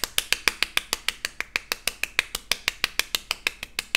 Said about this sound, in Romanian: deci efectiv sunt singurul care aplaudă